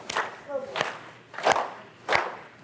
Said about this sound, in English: Now clap overhead.